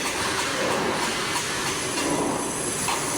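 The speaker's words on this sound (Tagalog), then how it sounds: "May dumaang train mga guys." A train rolls past close by in a steady, loud rumble of wheels and carriages, with faint squeals and rhythmic clatter, continuing throughout with no voices.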